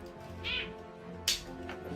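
A cat meows twice in short, clear calls, one early and one louder near the end, over a steady background hum.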